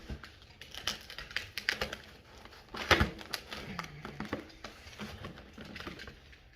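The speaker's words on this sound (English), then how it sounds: "let's get this tape off in here" Packing tape being pulled off a freshly delivered cardboard box, a series of close, sharp ripping and crackling bursts, loudest in the middle, with no talking.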